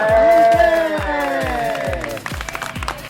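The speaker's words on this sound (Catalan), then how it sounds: "Fort aplaudiment per Alba." Crowd applause and cheering for a performer at an event in Catalonia, heard beneath a loud sung or chanted voice with a rhythmic beat; the clapping grows more distinct toward the end.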